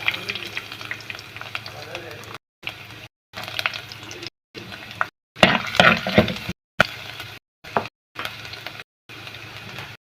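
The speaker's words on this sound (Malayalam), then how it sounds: "എണ്ണ ചൂടായി വന്നതിന് ശേഷം ചൂടായി വന്നിട്ടുണ്ട് നമുക്ക് കുറച്ച് ഉള്ളത് ഇട്ട് കൊടുക്കാം ഇഞ്ചി വെളുത്തുള്ളി ഇട്ട് കൊടുക്കാം" Onion, ginger and garlic frying in hot oil for a spicy sardine curry, a close crackling sizzle with stirring scrapes, chopped into short bursts separated by abrupt silences.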